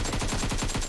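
Hip-fire gunshots in the video game PUBG Mobile, a rapid string of closely spaced shots forming one brief, dense burst under a second long.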